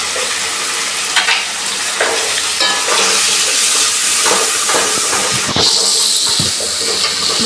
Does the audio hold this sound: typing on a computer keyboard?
no